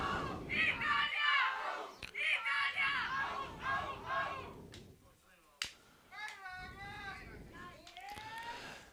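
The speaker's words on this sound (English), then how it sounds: "We can hear cheering in the background." Crowd cheering and shouts rise in the background at an outdoor recurve archery team final, a youth European cup event in fine weather, heard in bursts with a few sharp claps or slaps among them.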